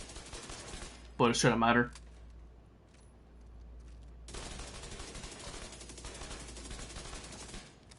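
Rapid automatic gunfire in the shooter game The Division 2, bursts of fast rattling shots running under and after a brief spoken remark, fairly quiet in the mix.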